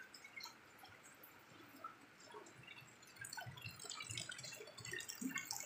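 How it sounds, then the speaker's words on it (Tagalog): Water flows through a village canal in soft, continuous trickling and dripping, faint and fairly close, slowly swelling in level with no voices over it. "Ayan ang tubig sa kanal."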